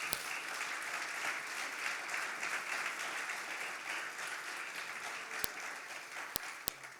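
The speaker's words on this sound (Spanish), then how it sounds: "¿Puede usted aplaudir al Señor en esta mañana?" A church congregation claps together in steady, continuous applause during a Spanish-language sermon, a dense fairly distant wash of hands with a few sharper knocks near the end.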